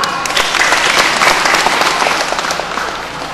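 Loud, sustained applause from an audience fills an indoor futsal hall in Sukadana during a dialogue-style regional election campaign event, steady clapping that slowly tapers off near the end.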